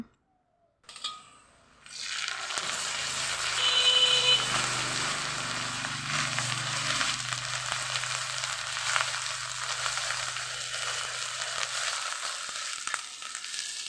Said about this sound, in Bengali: তারপর আদা রসুন পেঁয়াজ বাটা দিয়ে দিলাম